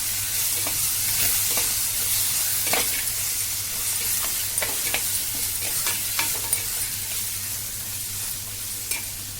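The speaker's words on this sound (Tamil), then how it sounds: "நசுக்கி போட்டு வச்சுருந்த அதையும் இதோட ஆட் பண்ணுவேன் ஆட் பண்ணி நல்லா வதக்கணும்" Mutton thokku sautéed in a pan gives a continuous close sizzle with scattered stirring scrapes and spoon clinks, steady and alone without speech.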